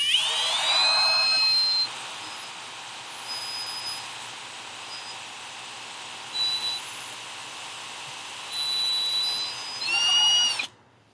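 A Milwaukee power drill whines in high-pitched bursts as it bores a hole, speeding up and slowing between pushes, then stops abruptly.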